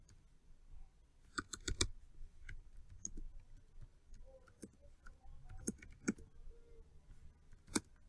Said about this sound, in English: Let me go ahead and type some comments.